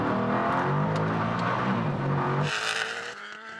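High-performance cars, including a Bugatti Chiron Pur Sport and a Koenigsegg Agera RS, accelerate hard in a rolling race from 50 mph in second gear, their engines a loud rising roar that abruptly shifts and fades.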